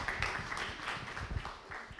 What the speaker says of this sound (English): So another round of applause and I'll leave the stage.